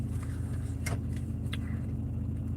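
A small engine in a larger car hums with a steady, close low drone while driving, with a couple of faint brief clicks and no talking.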